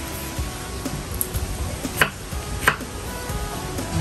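Beef being sliced thin with a knife for bò né, heard as two distinct cuts against a steady background hum.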